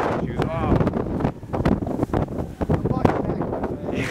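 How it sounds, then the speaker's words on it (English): Gusty wind roars and buffets the microphone outdoors during the 2011 blizzard, rising and falling in strong bursts while people talk nearby. "The wind just totally just came from a different direction than it was before."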